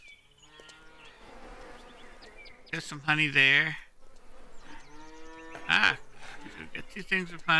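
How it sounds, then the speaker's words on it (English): Cattle mooing in the farming video game Lumberjack Dynasty, a couple of drawn-out lowing calls rising over steady background game ambience while a person talks nearby. "make sure you always have 9 cows. Make sure you buy 9 cows, and that way you can milk them"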